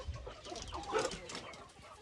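Same-age Bangkok and Mardi chickens on a farm cluck softly and intermittently, faint and somewhat distant, with low rustling in the background.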